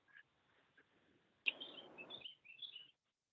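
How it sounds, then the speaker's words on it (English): Small birds chirp faintly outdoors in a few short, scattered calls, partly masked by a brief burst of rustling noise midway. "I said, listen to those birds."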